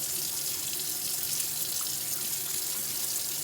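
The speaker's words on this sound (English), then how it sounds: "Now I'm going to be washing the potatoes." Potatoes are washed and scrubbed under a running kitchen tap, a steady, close hiss of water splashing into the sink with no talk.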